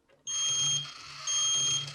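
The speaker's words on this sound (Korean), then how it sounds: "부저도 소리가 났다 안 났다 하는 것을 볼 수가 있습니다" An Arduino dance robot's buzzer gives two high electronic beeps, each about half a second long and separated by a half-second gap, clear and alone.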